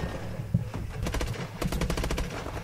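Rapid bursts of automatic gunfire in Call of Duty: Advanced Warfare, loud and close, with a short gap before a longer rattling stream of shots.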